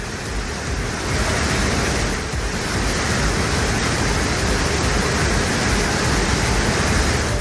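Rushing water roars at the Hogenakkal waterfall, a loud, dense and continuous wash of noise with no talk over it.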